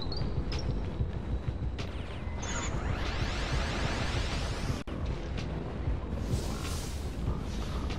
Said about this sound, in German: Also mit Lava in Verbindung explodiert das Gas.